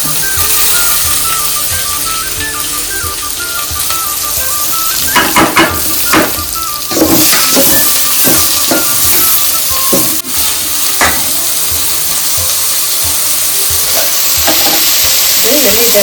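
Chopped onions and green chillies fry in hot oil for savate beejada uppittu, a steady loud sizzle with repeated clinks and scrapes of a spoon stirring against the pan.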